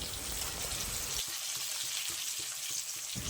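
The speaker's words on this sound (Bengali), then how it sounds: "বরবটিটা ভালো করে ভেজে নেওয়ার পর মাছের তেলটা দিয়ে দিচ্ছি" Yardlong beans sizzle in a pan as fish oil is added, a dense steady hiss of frying with soft stirring clicks, loud and close with no talking.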